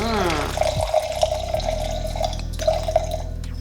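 Canned Edna Valley Pinot Noir pours from the can into a glass, a close gurgling trickle with small drips and splashes that shifts into a steady fill.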